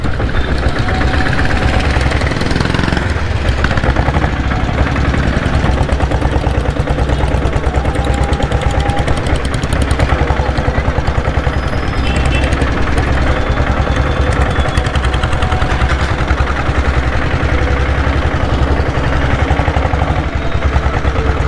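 A Royal Enfield Bullet motorcycle with a diesel engine runs steadily throughout, a loud, close, evenly thumping chug with a rough knocking beat that stays constant and uninterrupted, with no voices.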